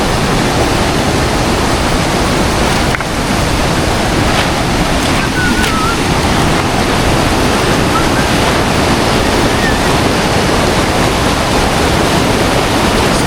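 A large river in Nepal rushes past in a loud, constant roar of churning water that fills the whole stretch, with no voices heard.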